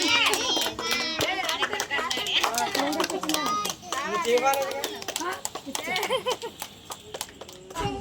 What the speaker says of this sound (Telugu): క్లాప్స్ కొట్టండి మా అబ్బాయి కోసం.